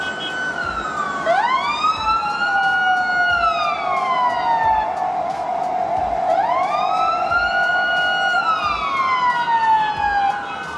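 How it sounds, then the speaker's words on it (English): An ambulance siren wails through rush-hour traffic, a loud rising and falling two-cycle sweep over a steady roar of engines and road noise. "Once the siren goes off, the cars instantly move aside,"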